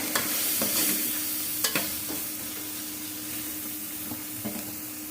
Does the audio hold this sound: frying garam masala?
yes